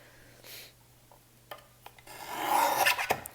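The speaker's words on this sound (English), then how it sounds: "and then I'll trim the left and the right side equally" A paper trimmer slides through paper while trimming strips for a washi tape dashboard, giving a soft rasping cut that builds near the end after a few light taps, with no talk.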